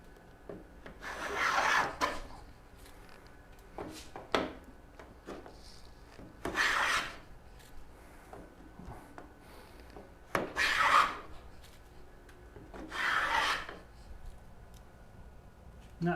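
A wooden-soled moulding plane cuts a rabbet in wood, making four quiet, drawn-out rasping strokes with short pauses and light knocks between passes.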